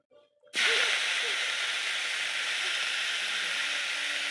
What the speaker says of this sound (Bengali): শুকনো লঙ্কা ভাজাভাজি হচ্ছে